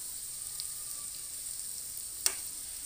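Stuffed bitter gourd cooks in oil under a lid in a covered pan, making a soft, steady sizzle, with a single sharp click near the end.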